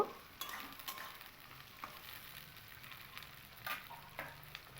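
Vegetables with cashews, raisins and peas are stirred and fried in a pan for a vegetable dal. A steady close sizzle runs under repeated scraping strokes, with no voices.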